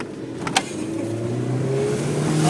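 A car speeding on a road trip accelerates hard, its engine note climbing steadily and growing louder over a couple of seconds, heard from inside the vehicle with no talking.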